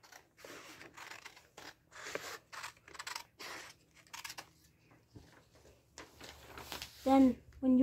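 Paper is cut with scissors to trim it square, producing short snips and crunching scrapes under a child's speech, followed by a brief louder voice near the end.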